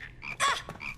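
Cartoon frogs let out a short burst of croaks, a couple of quick ribbits with one louder rasping croak in the middle, close and clear.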